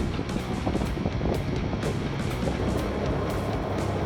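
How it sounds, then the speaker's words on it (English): A two-stroke outboard on a racing tinny dinghy screams along the Murray River, a harsh, angry buzzing drone close by with wind buffeting the microphone and water noise throughout. "It sounds angry, this thing, eh? Sounds like it's got a cam in it. Can you have a cam in the two-stroke?"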